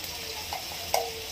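Green masala paste of ground spices frying in oil for chicken curry, a steady close sizzle with two soft stirring scrapes, the second one louder.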